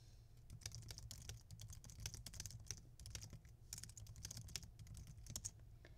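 Rapid, irregular clatter of computer keyboard typing, steady and close, with soft key taps running continuously and no voices over it.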